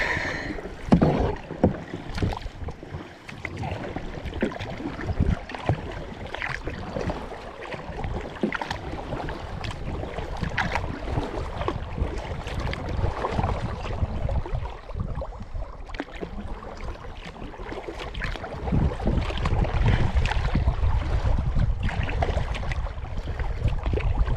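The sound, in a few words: kayak paddling on a lake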